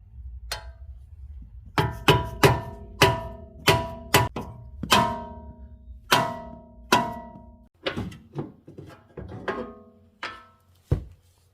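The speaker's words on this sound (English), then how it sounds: "I'm just going to use a little chisel and bang it into this crack to open it wider" A series of sharp metallic strikes, roughly a dozen hammer blows at an uneven pace, each ringing briefly before the next, with no talking, as a chisel is driven into a crack to free a ball joint on a 2010 Audi S4.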